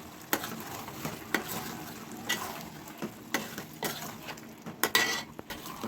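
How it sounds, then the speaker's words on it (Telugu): A spoon scrapes and clanks against a pot while chicken curry is stirred after the lid comes off: a series of sharp metallic knocks at an uneven pace over a soft background hiss, close and fairly loud. "ఇప్పుడు మూత తీసి ఒకసారి కలబెట్టుకోవాలి బాగా నీట్గా."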